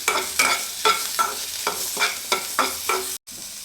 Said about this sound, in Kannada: ಮಸಾಲೆ ಹುರ್ಕೊಂಡು ಆಗಿದೆ.